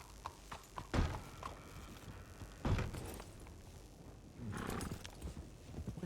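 A horse's hooves clip-clop in a roleplay video game, with a few irregular, moderately close thuds and taps over a low ambient background and no voices.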